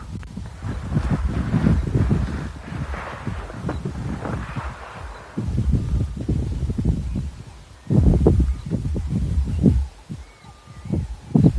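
Gusts of wind buffet and rumble in uneven waves, swelling and fading outdoors with low blustery bursts and no talking.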